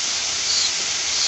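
Single cream tipped into a hot pan of saag paneer with spinach and stock, giving a steady, close sizzling hiss that holds loud and even throughout with no talking.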